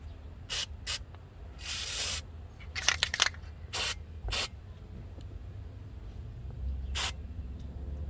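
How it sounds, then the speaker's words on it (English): Several short bursts of aerosol degreaser spraying onto a tire rim, irregular and close hisses, with one longer spray among quick puffs and quiet pauses between. "Just spray it in there, put it around the rim."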